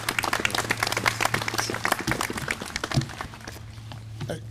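Steady applause and clapping from a crowd at a veterans parade for Colonel Vernon Leitner, dense and continuous before thinning out toward the end.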